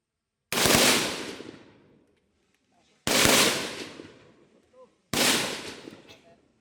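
Army reservists fire guns at a firing range: three loud, sharp reports spaced a couple of seconds apart, each ringing out with a long decaying echo, with faint voices in the quiet gaps.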